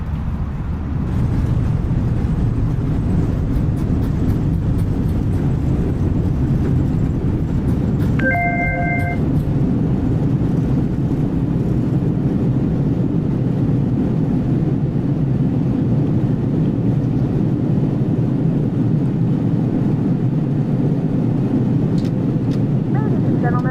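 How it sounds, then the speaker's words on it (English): Loud, sustained jet engine roar of an A320 airliner using reverse thrust after landing at Frankfurt in Microsoft Flight Simulator 2020, a steady dense rumble that fills the whole clip with a brief electronic chime partway through. "Reverse thrust."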